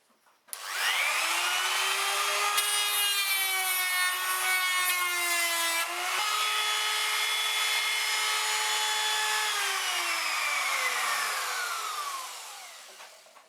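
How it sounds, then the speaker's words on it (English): A router clears excess wood from a Firebird-style guitar body, its loud whine rising quickly, holding steady while it cuts with a shift in pitch midway, then winding down slowly after about thirteen seconds. "I can use the router just to clean that little bit of excess material out"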